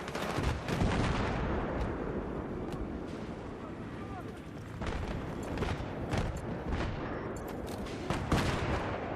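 Gunfire from an allied soldier in the video game Battlefield 3, a dense stream of sharp shots and blasts rolling on throughout amid battlefield noise, with a voice talking now and then underneath.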